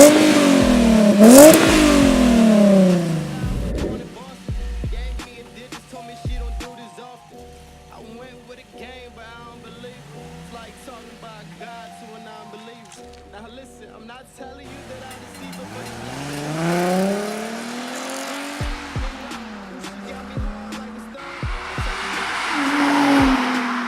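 A Nissan 370Z with an ISR single exit exhaust and muffler delete revs and passes by loudly. Engine pitch climbs and falls across two runs, with a deep exhaust roar swelling as the car nears and fading as it goes.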